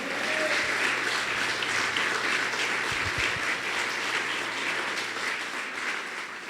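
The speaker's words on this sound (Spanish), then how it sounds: "Alguien dale un aplauso fuerte." Loud, sustained applause from a large crowd, steady throughout before easing slightly at the end.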